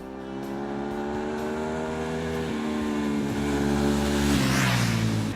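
A sports motorcycle ridden flat out, its engine a loud sustained whine that holds steady, then climbs higher through the gears, heard alone with wind rush.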